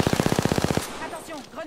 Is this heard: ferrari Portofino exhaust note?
no